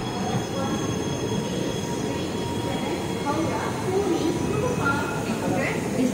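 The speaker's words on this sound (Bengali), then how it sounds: "ঠিক 4:03 ট্রেন এসে পৌঁছালো কটক স্টেশনে" A special train pulls into Cuttack station before dawn, its heavy rumble and rolling rail noise filling the platform with faint high squeals from the wheels, while voices and platform chatter mix in.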